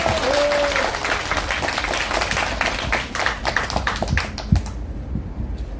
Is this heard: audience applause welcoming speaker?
yes